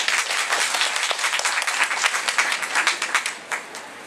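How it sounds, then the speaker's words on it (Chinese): An audience claps warmly to welcome a government engineering office director at a community event, a dense burst of applause that gradually thins into scattered claps and fades. "我们先用热烈掌声，让我们处长给我们几句话"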